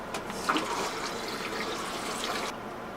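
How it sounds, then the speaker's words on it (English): Water running and draining out of the tubing of a compost toilet trailer, a steady broadband gush that holds fairly even for a few seconds before cutting off abruptly near the end. "So actually I'm going to drain this at its source."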